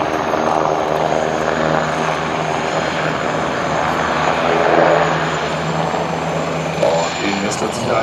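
A loud, steady rotor and engine roar from an Airbus Helicopters Tiger attack helicopter flying a display at the ILA 2014 air show, with an announcer on a loudspeaker talking over it.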